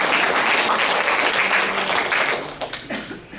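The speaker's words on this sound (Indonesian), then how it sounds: "berikan tepuk tangan bagi Tuhan." During a church service, the congregation breaks into strong, sustained applause that fills the room, then thins out into scattered individual claps toward the end.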